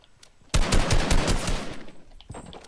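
Rapid automatic gunfire in a video game starts suddenly as a loud, dense burst of shots, then trails off into scattered quieter shots.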